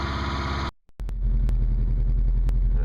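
Fiat car engine with gummy intake valves idling while warming up: a brief tonal hum cuts out, then a steady low, close rumble with occasional sharp clicks.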